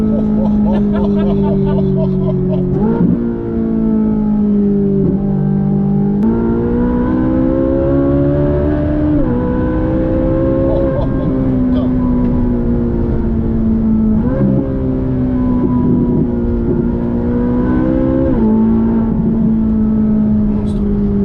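A car fitted with an IPE F1 exhaust revs loudly and continuously, its exhaust note rising and falling through repeated throttle blips at close range, with voices partly under it.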